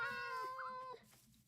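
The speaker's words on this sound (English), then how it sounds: "There's the cat." A cat in the video game Minecraft gives a single clear, drawn-out meow that tapers off, heard alone and at a moderate level.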